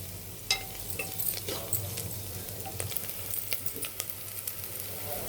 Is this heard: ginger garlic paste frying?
yes